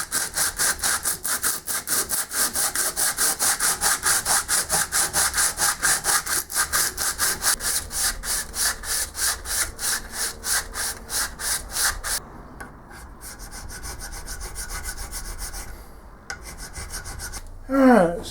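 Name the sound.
hand sawing grooves into a wooden tailstock base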